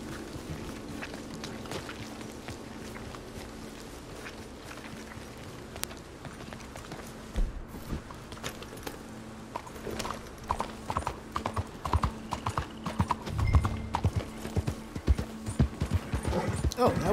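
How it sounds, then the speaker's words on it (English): Horse hooves clip-clop steadily in Red Dead Redemption 2 during a rainy outdoor scene, the hoofbeats growing louder and busier toward the end, with game sounds around them and someone talking over parts of it. "Oh, my horse moved up over here."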